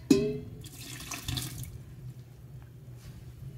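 Hot water runs from a tap into a felting basin for a knitted bag: a steady, close splashing stream that starts with a sharp gush and then fades to a quieter trickle, with no voices.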